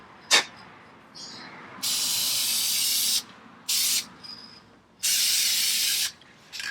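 An aerosol can spraying a gloss coat onto car brake calipers, in four long hissing bursts with short pauses between them, close and fairly loud, with a tap before the first burst.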